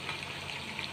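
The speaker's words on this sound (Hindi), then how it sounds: "ये देखें, गोश्त अच्छी तरह भुन रहा है, घी इसमें छोड़ दिया है।" Beef sizzles steadily as it fries in ghee with masala for bhuna gosht, a dense, even crackle with no voices.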